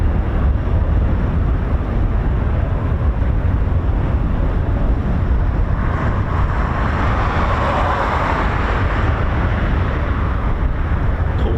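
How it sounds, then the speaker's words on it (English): A BAE Systems Embraer ERJ145 jet takes off at RAF Coningsby, a broad, continuous jet roar that swells slightly midway, mixed with wind noise on the microphone. "So this is a Embraer ERJ145 of BAE Systems. Off she goes."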